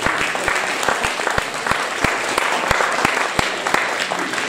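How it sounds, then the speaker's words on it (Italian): An audience applauds the musicians in a small theatre hall in Naples, a dense steady wash of clapping with a few sharp louder claps standing out, loud and close throughout. "un bellissimo applauso ai nostri maestri"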